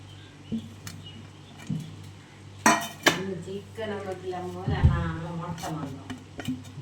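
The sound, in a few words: mixing chicken pieces with pepper in a bowl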